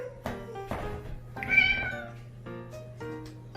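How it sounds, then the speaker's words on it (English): A kitten gives a series of distinct meows, about five short cries with brief pauses between them, close by in a quiet room. "You can't take a bath, you're a cat."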